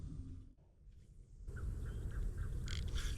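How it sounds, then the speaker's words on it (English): Birds, likely ducks, call in a series of short quacking squawks at a moderate distance over a low outdoor background, with a few louder calls near the end. "How many birds are over there making noise?"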